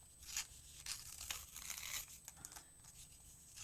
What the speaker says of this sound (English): I'm going to rough up this paper.